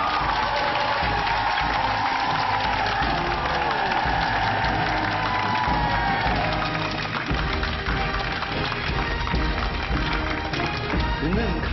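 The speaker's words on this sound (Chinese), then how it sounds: "用你们热烈的掌声，请出这对主人公" A studio audience on a Chinese TV relationship show claps warmly to welcome a couple onstage, a dense, steady wash of applause that carries under music throughout.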